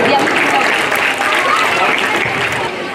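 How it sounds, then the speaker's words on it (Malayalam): An audience claps steadily for schoolchildren at a school convocation ceremony, dense and loud throughout with a murmur of voices in the crowd. "എല്ലാവരും നല്ലൊരു ക്ലാപ്പ് കൊടുത്ത് നമ്മളെ മക്കൾക്ക് വേണ്ടിയിട്ട്"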